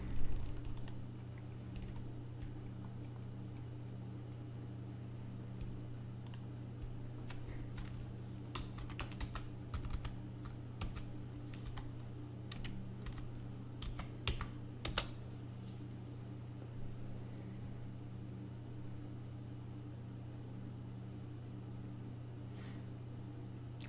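A password is typed on a computer keyboard, giving sparse, soft key clicks in irregular bursts over a steady low hum from nearby equipment.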